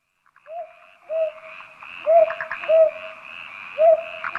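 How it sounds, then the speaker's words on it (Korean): A brown hawk-owl calls in a repeated series of soft, hooting two-part notes at a steady, unhurried rhythm, clear and moderately close over a faint background with insects or distant sounds. "얘는 솔부엉입니다."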